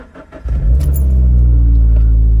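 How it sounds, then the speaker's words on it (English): A hypercar cold-starting with its exhaust valves open: a brief starter whir, then a sudden loud, deep bark that settles into a heavy, rumbling high idle, close by with no voices. "we're gonna do a cold start with the valves open, but just for a second"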